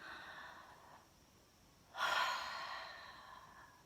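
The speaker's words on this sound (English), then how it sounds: "A few more big breaths." Big deep breaths taken during a shivering exercise routine: a soft exhale fades out, then after a pause a loud, close, airy gasping inhale swells and tails off slowly, with no talking.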